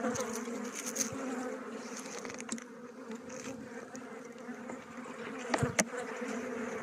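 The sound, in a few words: honey bees buzzing at a weak hive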